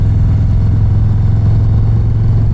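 A 2024 Harley-Davidson Low Rider ST motorcycle engine idles steadily with a low, throbbing rumble, close and continuous throughout.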